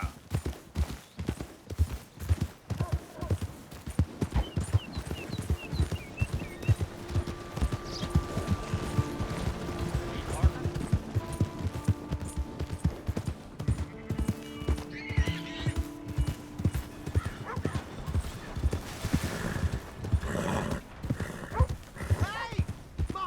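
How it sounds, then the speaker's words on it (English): Horse hooves clip-clop in a steady trotting rhythm in Red Dead Redemption 2, with whinnies and neighs rising now and then as people talk over the ride. "Hey! My horse!"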